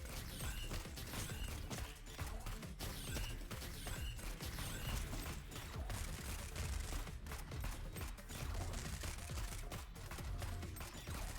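Dense rapid gunfire from bouncing bullets in the action game Neon Abyss, continuous and loud with crashing impacts and busy game noise throughout.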